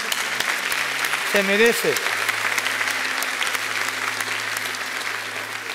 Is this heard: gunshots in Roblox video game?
no